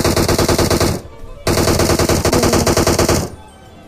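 Rapid automatic gunfire from a bot in a mobile battle royale shooter, two loud sustained bursts of evenly spaced shots separated by a short pause, close and dominant, with a brief spoken remark.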